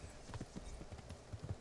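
Horse hooves clip-clop in Kingdom Come: Deliverance, a quick, quiet run of uneven hoofbeats on hard ground.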